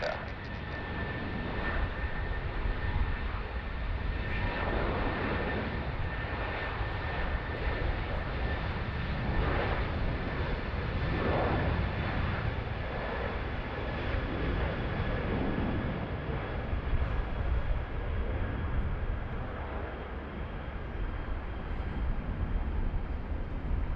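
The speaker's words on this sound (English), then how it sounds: "Qantas off to Melbourne." A Qantas airliner takes off from Sydney Airport bound for Melbourne during a thunderstorm, its engines producing a loud sustained roar that swells and holds for the whole stretch, with no talk over it.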